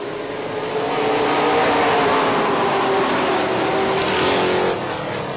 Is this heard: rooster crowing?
no